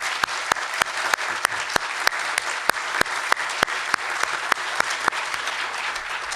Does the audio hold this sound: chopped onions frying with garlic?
no